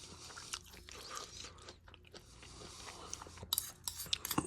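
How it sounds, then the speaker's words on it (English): Quiet, close chewing of crunchy bamboo shoots from a Royal Thai ration chicken red curry, with soft crunches and faint utensil scrapes near the end. "Bamboo shoots are crunchy."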